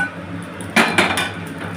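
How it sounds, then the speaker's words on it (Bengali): Vegetables tipped into a hot frying pan for a vegetable khichuri, giving a couple of sharp clattering bursts of food and utensil against metal followed by a brief sizzle, close and moderately loud. "সবজিটাকে ছেড়ে দিলাম।"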